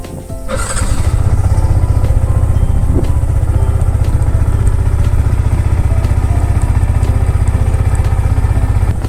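A liquid-cooled motorcycle kept at a farm field, unstarted since morning, is cold-started: the engine catches about half a second in and then runs at a loud, steady, chugging idle close by.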